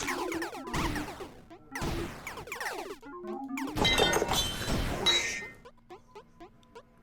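Real glass breaking in a game session: several sharp crashes and shattering bursts with clinking shards, loud and close, followed by scattered small tinkling pieces settling near the end.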